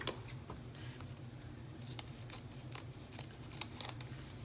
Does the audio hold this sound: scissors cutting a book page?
yes